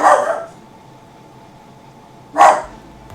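A pet dog indoors barks at a FedEx delivery, two separate loud, close barks spaced about two seconds apart with quiet room tone between them.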